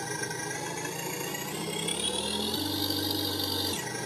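An RC car sound system plays a synthetic crawler engine sound at full throttle, a continuous buzzy drone that steps up in pitch a couple of times before dropping back, steady and close with no talk.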